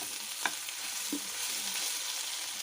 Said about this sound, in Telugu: చూడండి ఆలుగడ్డలు ఫ్రై అవుతున్నాయి